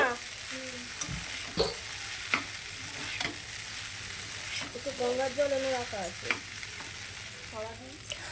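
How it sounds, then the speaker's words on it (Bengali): Cooked pasta being stir-fried with vegetables and egg in a nonstick pan over high heat, giving a constant close sizzle under repeated scraping stirs and clatter, with someone speaking over it at times. "আর তারপরে আমি পাস্তাগুলো দিয়ে দিয়েছি, দিয়ে একটু ভালো করে নাড়াচাড়া করে ভেজে নেব।"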